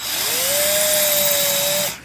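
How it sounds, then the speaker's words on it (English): A small power drill with a little bit bores a quick pilot hole for screws when mounting bamboo shades, a steady high whine that spins up, holds for under two seconds and cuts off. "Just drilled a little pilot hole real quick."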